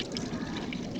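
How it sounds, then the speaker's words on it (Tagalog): Excess washing water from hand-laundering clothes tossed onto a floor, a short close splash and pour lasting about a second with no talk over it. "Tapos ito yung mga excess na tubig, tinatapon ko dito sa sahig."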